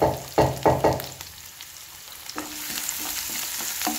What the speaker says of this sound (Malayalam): അപ്പോൾ ആദ്യം വെളുത്തുള്ളി ഇടാം നമുക്ക്.